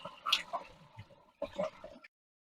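Waste and water gush out of an emptied portable toilet cassette in two short bursts of splashing and dribbling, close and fairly quiet, then stop.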